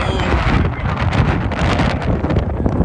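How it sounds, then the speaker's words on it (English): Strong wind buffets the microphone on the open deck of a ferry leaving Campbell River, a loud, continuous roaring rush that fills the whole stretch without a break. "That wind is strong."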